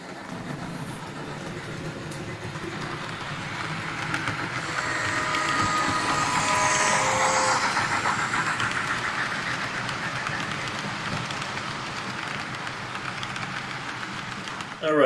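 A Bachmann Spectrum K4 model steam locomotive hauls a string of train cars, its wheels briefly slipping; a steady low mechanical running whir with faint track clatter continues throughout, swelling slightly midway, with a voice speaking over it.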